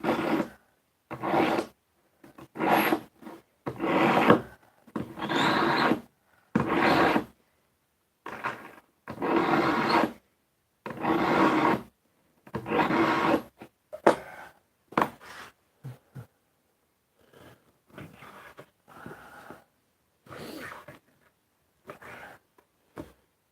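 A knife is sharpened while processing game meat, giving repeated rhythmic grinding strokes of about a second each, close and steady, that shorten and grow fainter toward the end, with no voices.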